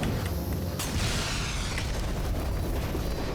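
A video game explosion in Shadow Warrior 2 erupts in a dense, sustained roar of blast and debris noise, loud and continuous with crackling bursts and no speech over it.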